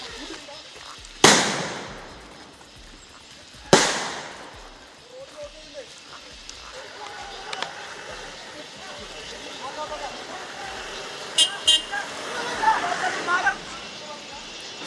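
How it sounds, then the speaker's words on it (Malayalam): Firecrackers set off by a forest department team to drive three wild elephants from a Wayanad settlement back into the forest: two sharp, loud bangs a few seconds apart, then fainter pops and crackles, with crowd chatter throughout. "സുർജിത്ത്, വനംവകുപ്പ് നേരത്തെ തന്നെ ആനകളെ തിരികെ കാട്ടിലേക്ക് തുരത്താനുള്ള നടപടികൾ പടക്കം പൊട്ടിച്ചുമൊക്കെ അത് ചെയ്തിരുന്നു."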